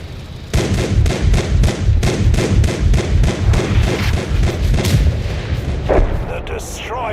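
A tank destroyer fires in World of Tanks on console, loud booming shots coming in a fast, steady rhythm over a rumbling battlefield background.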